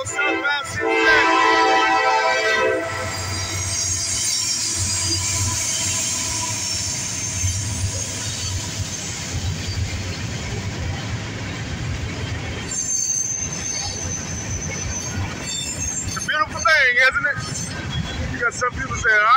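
Southbound CSX freight train rolling past, a loud continuous rumble of cars with sustained high wheel squeal and screeching flanges, ending in sharper squeals, someone speaking over it.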